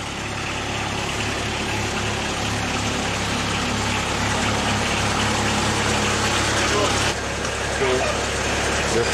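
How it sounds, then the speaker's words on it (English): A small train engine idles with a steady, rumbling hum and mechanical chugging, continuous and moderately loud, with faint voices in the background. "There's a train about to depart."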